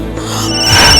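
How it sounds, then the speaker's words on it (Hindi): An electronic phone ringtone chimes steadily, growing slightly louder over a second, with a muffled room hum underneath. "मम्मी तुम्हारे फोन वागे छे।"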